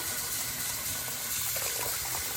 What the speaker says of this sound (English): I will keep letting this fill up until the sink is almost full of water